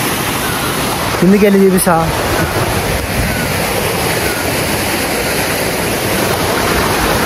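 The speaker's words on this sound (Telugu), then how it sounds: "ఈ మౌంటైన్స్లోనైతే వాటర్ ఫాల్స్ లాగా కనిపిస్తున్నాయి" Mountain waterfalls near Vasistha temple in Manali roar as a loud, steady broadband rush throughout, with someone speaking briefly over the noise.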